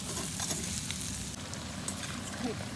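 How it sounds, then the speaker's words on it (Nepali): Chicken cooking Nepali style at night, a steady close hiss and crackle of sizzling meat in a pan, continuous and fairly even, with faint scattered pops and no talking. "Nepali स्टाइलमा chicken cooking"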